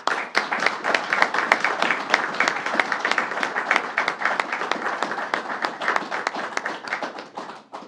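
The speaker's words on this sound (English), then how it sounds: "Let's give her a round of applause." Sustained applause from a crowd at a governor's public safety announcement, a dense steady patter of many hands clapping for several seconds before tapering off at the end.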